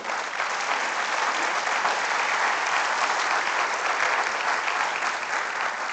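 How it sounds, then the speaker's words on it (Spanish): A church congregation claps together during a worship service, steady dense applause held at an even level throughout, heard at a moderate distance in a reverberant room. "Diga amén y aplauda al Señor de la gloria."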